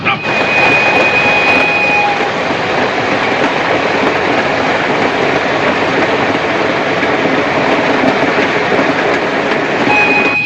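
A train in a western film rumbles along steadily, a loud continuous roar with wheel noise and a brief high whistle-like tone at the start and end.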